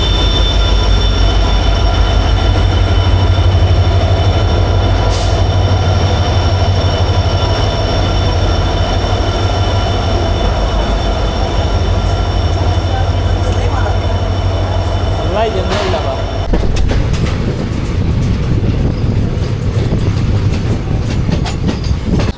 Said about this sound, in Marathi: ट्रेन खूप लेट आले, आज 1:45ला ट्रेन आले